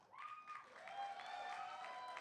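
A convention audience at an improv comedy show applauds in a fairly faint, continuous wash of clapping, with a tonal ringing sound running over it.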